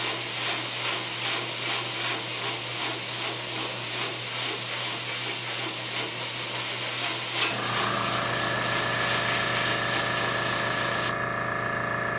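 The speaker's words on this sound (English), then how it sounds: "And then I am going to concentrate most of the spray" Airbrush spraying paint through a stencil onto a model defence wall, a steady close hiss with a soft rhythmic texture, then a brief click and a shift to a smoother continuous spray.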